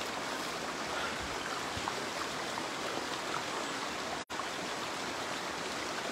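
A stream at Hinaguan Nature Park flows in a steady, broad rushing wash of water with no break except a momentary dropout.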